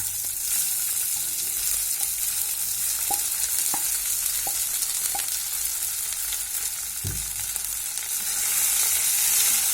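Flattened rice (poha) frying in a pan makes a loud, steady, close sizzle, punctuated by a handful of distinct stirring knocks and scrapes spaced about a second apart, with no voices.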